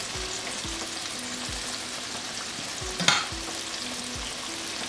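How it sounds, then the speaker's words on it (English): Chicken pieces fry in oil on a medium flame with a constant close crackling sizzle, broken by a few soft low taps and one brief sharp clatter midway, with no talk. "I'll let this fry on medium flame."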